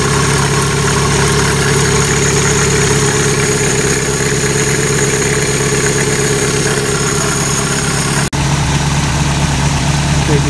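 An '85 Toyota 22R four-cylinder pickup engine idles steadily up close with a constant low hum and vibration, freshly fitted with new plugs and a new distributor cap, with one brief dropout near the end.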